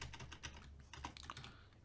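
Fast typing on a computer keyboard while opening a new shell on an Amiga, a steady run of close, crisp key clicks with no talk over it.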